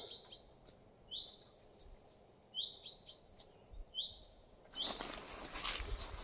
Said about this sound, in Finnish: Linnut vislaa.